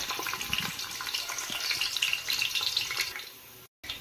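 Chopped onions fry in a pan for pulao, giving a steady bright sizzle and crackle that continues throughout, with a few low clunks of stirring and a brief dropout near the end.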